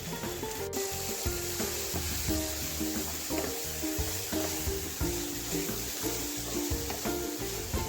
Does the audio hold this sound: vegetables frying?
yes